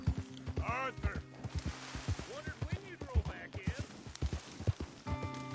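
Hooves clip-clop in a steady rhythm from a horse in the video game Red Dead Redemption 2, with a few whinnying calls over a background hum and game tones; someone talks over it.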